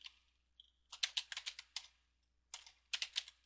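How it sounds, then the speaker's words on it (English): Quick bursts of typing on a computer keyboard, close and crisp, with two clusters of rapid key clicks separated by a short pause in a quiet room. "I'm just going to type in"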